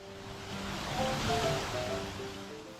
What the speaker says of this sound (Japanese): 上流からの滝、湯気が出てます。